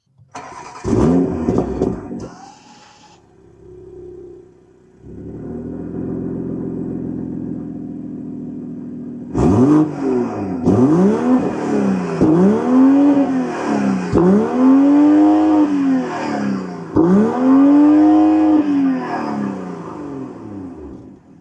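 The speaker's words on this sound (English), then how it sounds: "Let's have a listen to what the B58 sounds like." A 2025 BMW M240i xDrive's B58 engine starts with a short crank, settles into idle, then revs hard several times in rising, roaring bursts, loud and close.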